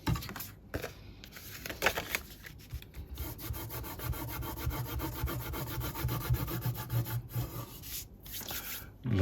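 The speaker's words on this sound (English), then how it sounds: "just go over with the bone folder, just applying a bit of pressure" A bone folder rubs firmly back and forth over paper to press a card layer flat. The dry, scratchy strokes are close and steady and continue for several seconds without any voice.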